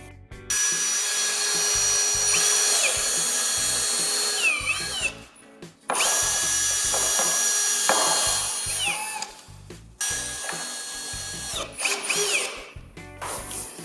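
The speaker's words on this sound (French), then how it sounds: "On les visse." A power drill drives screws into the wooden boards of a garden shed, in three long whining bursts that each run several seconds, separated by brief pauses, close and loud with no talking.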